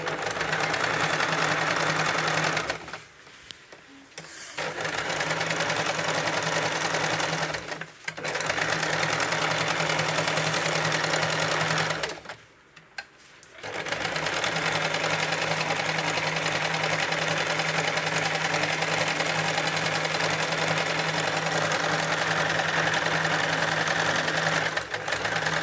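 Sewing machine stitching a blouse sleeve, a steady close mechanical whir with a humming drone, stopping briefly three times before carrying on.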